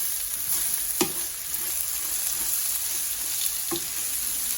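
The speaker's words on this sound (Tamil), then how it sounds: "வதக்கி எடுத்து வச்ச வெங்காயம் எல்லாத்தையும் போட்டு நல்லா மிக்ஸ் பண்ணுவோம்" Sautéed onions being stirred into frying potato and eggplant in a pan, a steady close sizzle with two distinct spatula knocks against the pan, no one speaking.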